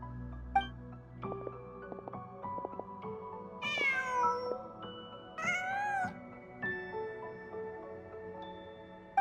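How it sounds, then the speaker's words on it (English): A cat in the Genshin Impact video game meows twice, two clear drawn-out calls in the middle over a soft musical game background, with no talking. "Just a cat"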